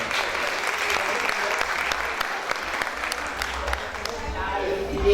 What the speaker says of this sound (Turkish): çocukları niye alkışlatıyorum?